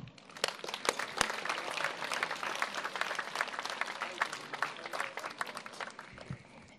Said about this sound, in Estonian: Ja veel kord teeme ise endale aplausi